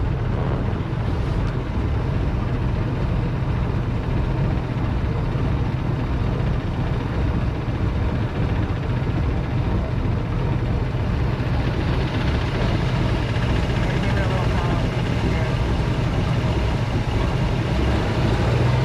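A 1956 Chris Craft 19-foot Capri boat engine idling at about 700 RPM: a steady, loud, rumbling drone held without change, with no talking.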